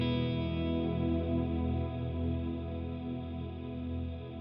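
Guitar chord held in freeze mode through an Eventide Blackhole reverb pedal, a dense sustained shimmering wash that hangs evenly without decay, swelling slightly, with no talk.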